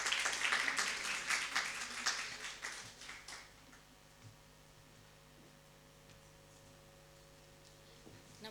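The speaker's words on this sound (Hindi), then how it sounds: "ज़ोरदार तालियों से स्वागत कीजिए उनका।" Audience applause at an Indian women's poetry event welcoming poet Anita Nair, a dense burst of clapping that fades over the first few seconds into quiet room hum.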